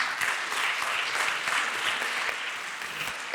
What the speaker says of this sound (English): let us give him another round of applause.